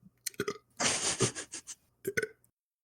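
A person burps on command: a long, loud, rumbling belch close by, framed by a few shorter grunting bursts before and after, with no speech.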